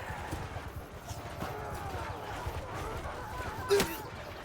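Horse hooves clip-clop in the medieval battle game Bannerlord, a steady run of soft thuds beneath a busy battlefield din with faint voices, ending in a sharper clatter.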